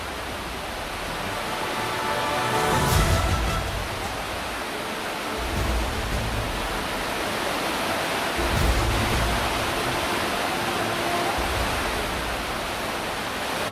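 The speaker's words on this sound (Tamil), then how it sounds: "ஐந்தருவி, பழைய குற்றாலம், சிற்றருவி உள்ளிட்ட முக்கிய அருவிகளிலும் தண்ணீர் ஆர்ப்பரித்து கொட்டுகிறது." The Courtallam waterfalls are in flood, and the water roars down in a dense, continuous rush. The roar swells now and then with heavier low surges and carries no voices.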